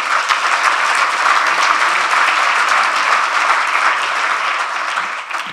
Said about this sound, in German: würde ich jetzt ganz gerne eben kurz um einen Applaus bitten